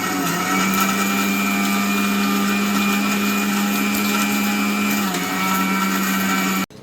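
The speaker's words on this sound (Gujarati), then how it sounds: "હવે આપણે મિક્સરમાં ક્રશ કરી નાખીએ" A mixer grinder crushes roasted sago, semolina and rajgira in a loud, steady motor whine with a grinding rattle that holds almost unchanged, then cuts off abruptly at the end.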